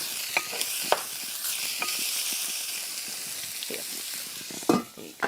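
Salmon sizzles steadily in a hot frying pan while being stirred, a continuous close frying hiss broken by occasional scrapes and clacks of the utensil against the pan.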